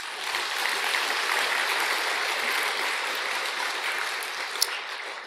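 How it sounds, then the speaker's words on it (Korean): A Buddhist temple congregation at a Sunday dharma service claps for the choir, a broad, even wash of many hands from a large room, steady for several seconds and fading slightly at the end. "합창단 위해서 박수 한번 칩시다."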